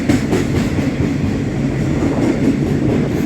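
A freight train rumbles past close by at a sky rail station, its wagons rolling with a steady rhythmic clatter of wheels on the rails.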